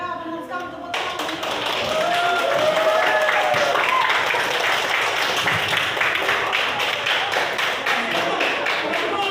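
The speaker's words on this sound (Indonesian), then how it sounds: "tepuk tangan" A classroom of children claps together, loud, fast and dense applause close by that starts abruptly after a moment of voices and continues evenly, with children's voices mixed in.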